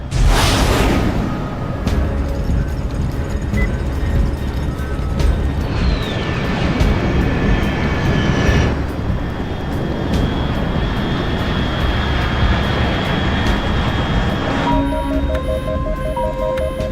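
Aircraft flying overhead in Metal Gear Solid Delta: Snake Eater, a loud, sustained engine roar and rushing whoosh that swells near the start and then holds steady, with game tones and beeps layered on top.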